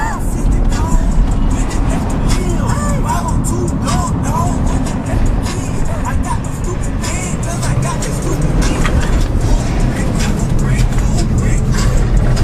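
A Mercedes van lapping a tight, twisty race circuit, its engine droning steadily and loud from inside the cabin with road rumble throughout, while a voice talks over it.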